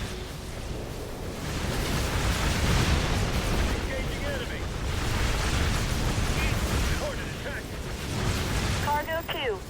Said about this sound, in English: That's a bombing run I just called in there.